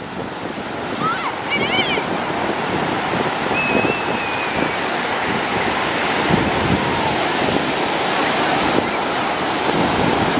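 Ocean surf breaking steadily on a beach at Myrtle Beach, a continuous broad wash of waves with wind buffeting the microphone, brief faint voices and a child's call near the start.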